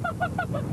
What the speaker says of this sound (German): Wir haben Enten hier im Wagen.